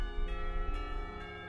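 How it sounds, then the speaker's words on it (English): A school bell rings in the Katawa Shoujo visual novel, a steady sustained metallic ringing with dense harmonic tones that continues loudly through the whole short moment, with no voices. "The ringing of the bell snaps us both back to reality."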